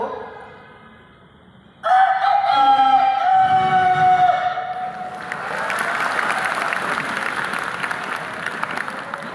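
A person imitates a village rooster's crow with a long, strained vocal call at a college talk, followed by crowd noise and applause-like clatter.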